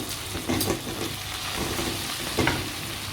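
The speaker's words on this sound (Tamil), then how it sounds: "நம்ம இப்போ இதையும் எண்ணெயிலேயே நல்லா வதக்கி விட்டுக்கலாம்." Ingredients for a traditional Sankara fish curry sauté in hot oil, a dense steady sizzle close by, broken by two louder stirring scrapes, with no voices.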